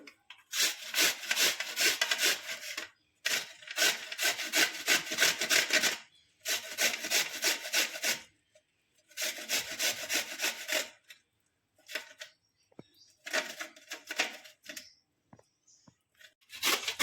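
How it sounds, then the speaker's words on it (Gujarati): Indian gooseberries (amla), cooled after cooking, rasped across a hand grater for a murabbo in rhythmic bursts of dry scraping strokes, several runs of a few seconds each separated by short pauses, close and fairly loud with no talking. "હવે મેં ખમણી લીધી છે, એનાથી આપણે છીણી નાખશું."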